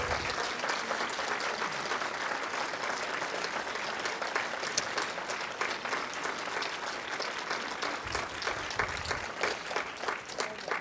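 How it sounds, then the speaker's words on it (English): Steady applause from a large audience at an awards ceremony fills the whole stretch, a dense, continuous roar of many hands clapping at an even level. "Please give a round of applause to the team."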